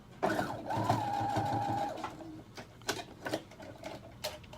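A sewing machine back-stitches the lapped ends of a fabric hair scrunchie in one quick, close whirring burst of about two seconds, followed by soft scattered clicks and taps.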